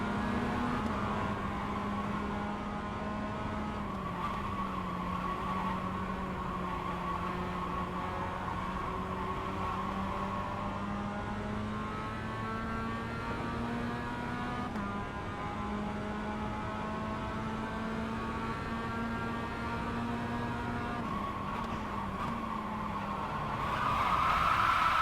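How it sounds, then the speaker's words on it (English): Race car engines drone steadily at a Las Vegas track, a Mazda MX5 and Toyota GR86 running on wet tires, with a sustained note that rises and falls through gear changes before a louder burst near the end. "he just went a little wide, and a little bit of contact just spun us both out"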